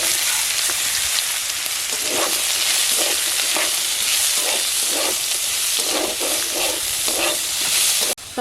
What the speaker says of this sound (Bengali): চিচিঙ্গা ভাজা হয়ে গেছে, এবার আমি শসাটা একটু ভেজে নেব।